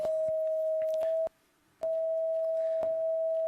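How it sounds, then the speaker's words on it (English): A colour-sensing eye for purple gives a steady electronic beep tone, held, broken by a short gap, then resumed, with faint clicks and room noise under it. "this is the sound of purple."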